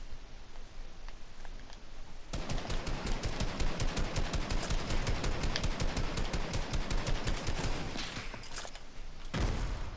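Rapid automatic gunfire in a Fortnite match, a dense, loud stream of shots that starts abruptly and runs for several seconds, then cuts out before a final burst.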